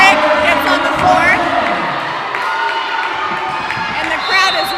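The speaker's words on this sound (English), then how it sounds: "And the crowd is really cheering for their senior players tonight." Crowd cheers and whoops through a volleyball senior-night match in a gym, steady and fairly loud throughout, with a few brighter shouts rising near the start and end and talk mixed in.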